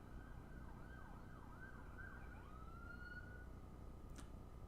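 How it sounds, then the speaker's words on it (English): Wailing siren sweeping up and down in pitch, distant, over a steady background hum of traffic. "I hear sirens."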